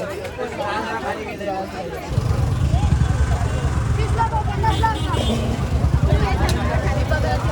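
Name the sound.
traffic jam in a market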